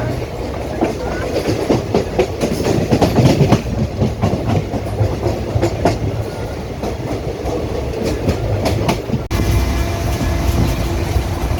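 Rajya Rani SF Special train running on tracks between Lucknow Charbagh and Hardoi, heard from on board as a loud continuous rumble with rhythmic clickety-clack of wheels over rail joints and a sudden shift in tone near the end.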